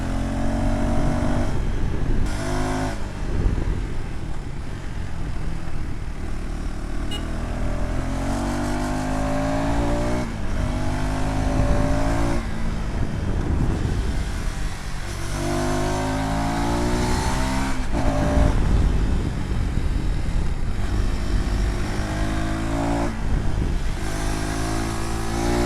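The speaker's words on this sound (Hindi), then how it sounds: "अभी इस मोटरसाइकिल को थोड़ा सा हम लोग जो है चलाते हैं" A 2026 KTM Adventure 390 motorcycle on the road, its engine droning loud and close with repeated revving swells and gear changes, mixed with a constant rush of wind over the whole ride.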